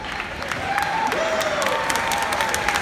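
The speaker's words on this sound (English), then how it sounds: "round of applause" Steady applause from a crowd at a choir competition, broadband clapping filling the space, with a faint tone sliding in and out underneath.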